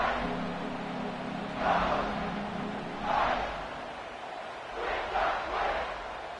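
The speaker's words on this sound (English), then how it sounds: "this crowd is feeling themselves after that last drive" A football stadium crowd roars in several rolling swells after a scoring drive, distant and washy, rising and falling in waves with no clear speech.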